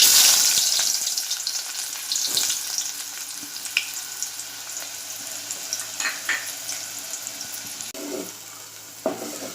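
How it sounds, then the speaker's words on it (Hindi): Chopped onion frying in hot ghee in a pot on a gas stove, a steady close sizzle and crackle with small stirring clatters, no talking. "देगची में घी गर्म हो चुका है। अब मैं इसमें प्याज डालूँगी।"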